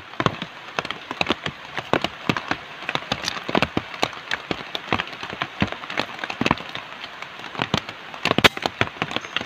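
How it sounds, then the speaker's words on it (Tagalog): Heavy rain with wind at an outdoor airgun shooting range: dense, irregular crackling patter of drops striking close surfaces, with frequent sharp louder hits over a continuous wash, and no voices. "Tapos lakas ng ulan tsaka hangin."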